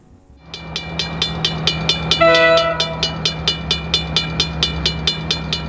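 DXC and DC diesel locomotives pass together in Wellington, New Zealand, giving a loud horn blast over a steady, rhythmic clatter of wheels on rail joints close by.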